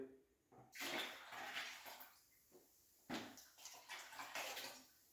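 Liquid pours in two bursts, a sloshing splash followed by a pause and another pour, close by with no talking.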